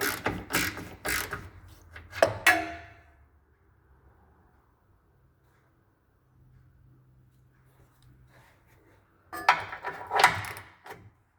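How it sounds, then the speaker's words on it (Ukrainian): A suspension bolt on an Acura MDX is loosened with a ratchet, giving two bursts of rapid, close clicking at the start and the end with quiet between them. "Відкручуємо нормальний болт."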